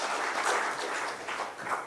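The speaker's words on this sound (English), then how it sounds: "Give them a round of applause." Brief, fairly quiet applause from the audience at a traditional Irish Comhaltas music concert in Milltown, Rathconrath, with a dense patter of clapping that swells and dips over about two seconds.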